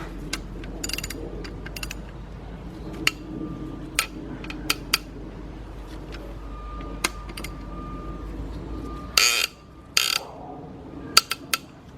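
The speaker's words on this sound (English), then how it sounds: "I'm using a 1/2-inch drive ratchet because it gives me a better leverage on this to tighten these up" A 1/2-inch drive ratchet tightens engine bolts during a partial rebuild of a 2003 Nissan Maxima GLE 3.5 V6, producing scattered sharp clicks and short ratcheting bursts, louder near the end, against a quiet workshop background.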